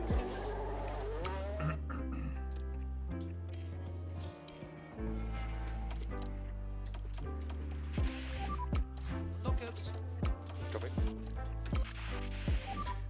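Race cars circulating on track in the F1 Manager 2024 racing game, a steady mechanical engine tone with clicking, gear-like transients over a continuous background, no voices.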